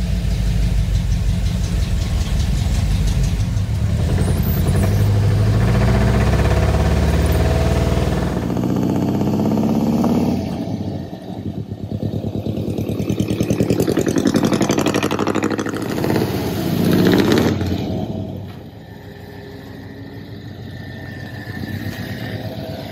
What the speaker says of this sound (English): All right, seems to be idling pretty good.